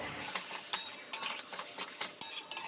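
A spoon scrapes and clinks steadily against a pan while masala with a little water fries softly, the stirring strokes coming in a regular rhythm close by.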